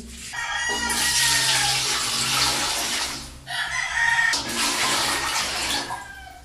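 Water poured from a dipper into a pot while making leche flan: two long splashing, rushing pours, each lasting about three seconds with a brief break between them, close and fairly loud, with no talk.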